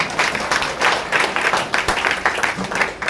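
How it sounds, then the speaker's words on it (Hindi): Audience applause for a little girl's question at a spiritual discourse, steady dense clapping from a crowd that stays fairly even and loud throughout, with no speech over it. "उनके लिए जोरदार ताली होना चाहिए"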